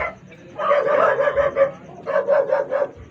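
A dog barks in two quick bursts of rapid, close barks separated by a short pause.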